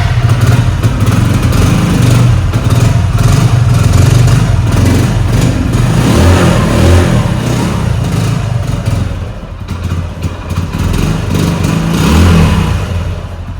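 A motorcycle's stock exhaust runs loud and close for the whole stretch, a steady low engine drone with slight rises and dips in revs, before any modification is made.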